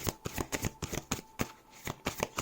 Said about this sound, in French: Donc je mélange toujours en face à moi. C'est juste pour brasser